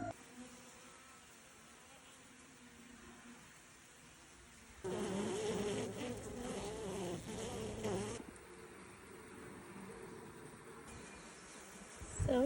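Honeybee swarm buzzing loudly at a new hexagonal habitat hive, a dense steady drone that swells for several seconds before easing back to a fainter, continuous hum of bees around the entrance.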